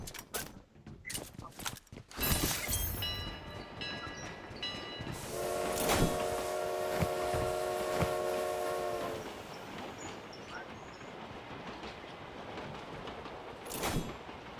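Train in an online multiplayer video game: a sustained horn blast rings out over a rumbling rolling train, with scattered clicks and knocks, and people chatting nearby.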